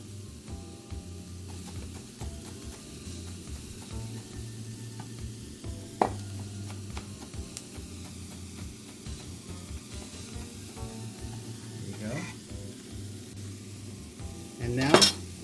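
Freshly chopped ginger sizzles steadily in a hot pan with occasional utensil scrapes and a louder clatter near the end, no voices.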